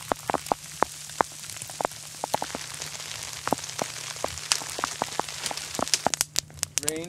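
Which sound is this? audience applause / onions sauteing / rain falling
rain falling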